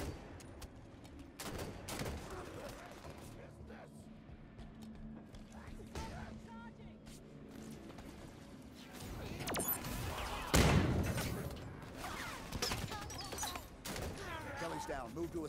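Assault rifle and DMR fire rattle through a Halo 5: Guardians battle with Elites and Jackals, bursts of shots and impacts mixed with explosions and game effects, fairly quiet overall, one heavy blast standing out near the end.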